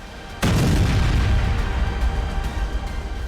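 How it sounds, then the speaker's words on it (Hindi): Explosion at the Natanz nuclear facility: a single sudden heavy boom that opens into a long, loud rumbling roar which slowly fades. "यहाँ धमाका देखिए।"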